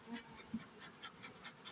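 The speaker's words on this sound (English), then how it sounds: "it's only the Vermont bees that are swarming" Vermont honeybees from a swarming colony headed by a two-year-old queen buzzing nearby, a faint, steady hum with soft pulses as individual bees pass close.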